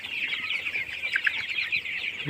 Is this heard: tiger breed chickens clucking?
yes